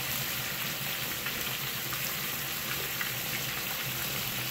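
Chicken frying in a pan, a loud, dense, steady sizzle close up, unbroken throughout with no voices.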